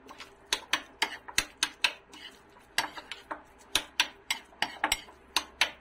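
Egg mayonnaise sandwich spread stirred in a bowl, a run of sharp, irregular utensil clinks and scrapes against the dish, close and clear with no talk over them.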